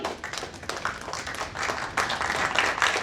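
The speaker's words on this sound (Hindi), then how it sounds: "आप सभी की तालियां अपेक्षित हैं इन क्षणों के लिए" Audience at a stage play of the Kakori Train Action breaks into loud, sustained clapping, individual claps crackling through a dense, uneven ovation that swells toward the end.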